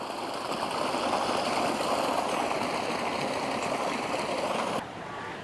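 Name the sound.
water flowing into a newly built pond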